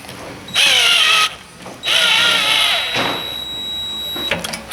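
Power tool tightening a pivot joint on a boom assembly, two loud whirring bursts followed by fainter mechanical clicks and shorter runs.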